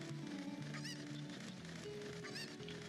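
Cuccos squawk in Zelda Ocarina of Time, giving honking clucks in a couple of short bursts over constant game music.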